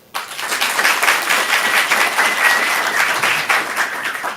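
A comedy club audience at a stand-up showcase breaks into applause, a sudden, full burst of clapping that stays loud and dense before easing slightly at the end.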